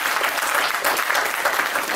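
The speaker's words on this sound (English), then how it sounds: "we should give them another round of applause" Loud, dense applause from alumni at an Old Boys Association colloquium, a continuous roar of many hands clapping close by with no pauses.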